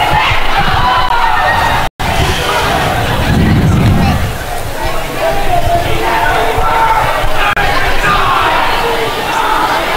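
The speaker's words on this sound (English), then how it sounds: "Good crowd here tonight again." A crowd of kids cheers and shouts loudly at a high school volleyball game, a steady roar of chatter and yelling that fills the gym, with one brief cut near the start.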